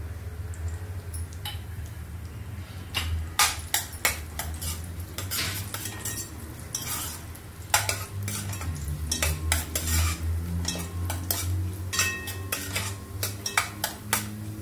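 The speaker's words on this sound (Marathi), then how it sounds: "काजू, बदाम आणि पिस्ता तुपामध्ये फ्राय करूया." Cashews, almonds and pistachios fried in ghee for carrot halwa, with a metal spoon repeatedly scraping and clinking against the pan over a low steady sizzle, in irregular bursts.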